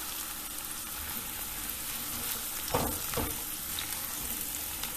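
Raw papaya cooking with potatoes in an Indian curry pan: a steady, close sizzle with a couple of brief louder stirring scrapes near the middle.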